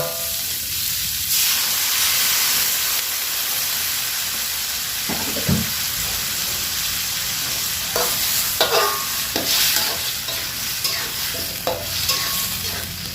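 Sliced eggplant cooks in a pan of spicy anchovy stir-fry after water is added, giving a steady bubbling sizzle with a burst of hissing, then intermittent stirring scrapes and spatters, and nobody speaks.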